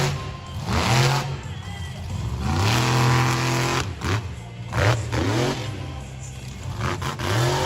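A monster truck engine revs hard during a freestyle run at a Salinas throwdown, repeatedly climbing and falling in pitch through several throttle bursts, loud and roaring against crowd noise and an announcer's voice.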